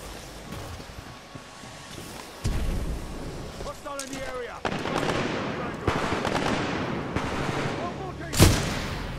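Hemlock rifle gunfire in Titanfall 2 comes as sharp bursts and single loud shots over a busy battle mix, with a few distant explosions and a heavy blast near the end.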